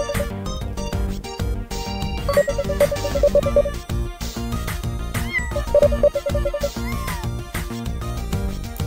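Cartoonish cat meows from a video game ring out repeatedly over busy, dense game music and sound effects, standing out clearly in short bursts partway through.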